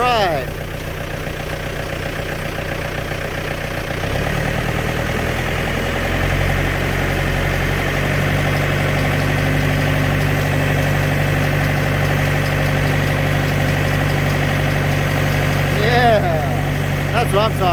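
A powered post hole digger's engine runs steadily and loudly at close range, its pitch dropping and settling under load partway through, with some voices in the background.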